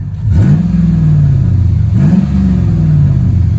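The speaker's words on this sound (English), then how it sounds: "I have a Flowmaster Super 10 on it, dumped, so this is what it sounds like" A loud, deep engine of a third-generation Ram truck with a dumped Flowmaster Super 10 exhaust revs twice, each rise settling into a rumbling, gurgling idle from a throaty exhaust, close by with no talking.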